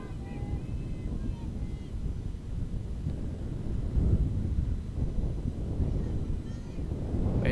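Hard gusts of wind sweep across an outdoor softball field during a college game, producing low buffeting rumble against the microphone that swells and eases throughout, with faint background voices.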